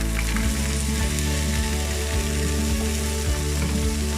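Sliced broad beans hit a hot pan and sizzle loudly and continuously, a dense close frying hiss that is stirred now and then.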